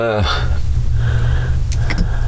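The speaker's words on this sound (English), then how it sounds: "vintage cars coming off here" Vintage cars drive along a road in Ireland, a steady low engine rumble passing close by, with a brief voice-like sound at the start.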